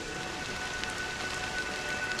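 Steady rain pattering in the video game Honkai Star Rail, a soft, even hiss of drops on surfaces, fairly quiet and continuous with no talk.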